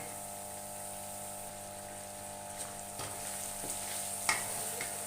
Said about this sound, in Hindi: अब इसे मसाले को अच्छी तरह भूनना है